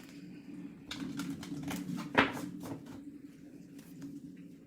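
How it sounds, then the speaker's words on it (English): A deck of tarot cards is shuffled up close, giving a quick run of soft riffling clicks and flutters, then a sharper snap as the cards bridge together, over a quiet room hum. "One more shuffle."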